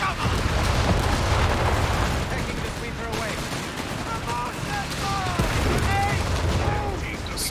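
In a Company of Heroes 3 battle, gunfire crackles continuously under a grenade blast and a mine detonation. A commentator talks over the dense battle noise.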